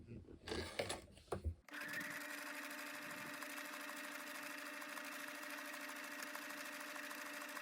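A sewing machine runs a zigzag stitch along raw fabric edges to finish them for a welt seam, a steady close mechanical whir holding for several seconds after a short burst of talk at the start.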